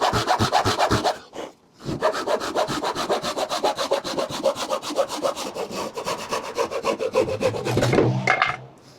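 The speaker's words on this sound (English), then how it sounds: "I'm just practicing sawing to my line here" A hand saw rasps through wood in a fast, steady back-and-forth rhythm of close strokes, pausing briefly near the start and stopping at the end.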